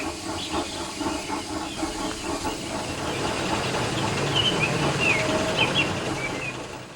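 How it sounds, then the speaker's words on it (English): A train rushes past with a steady roaring hiss and rhythmic wheel clatter, loud and close, building toward the end with higher squealing tones over the rumble. "The Limited rushed by with a growl and a roar."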